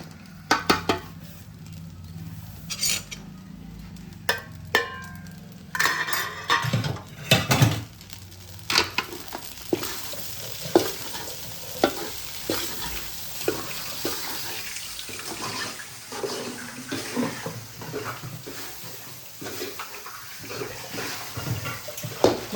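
Paneer fried rice is stirred and fried in a pan, with repeated close metallic scrapes and clinks over a steady sizzling hiss, while a voice speaks intermittently.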